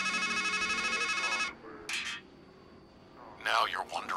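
A phone ringtone in the video game Strangeland trills loudly and steadily for about a second and a half, then stops, followed by a short chime and later a voice speaking.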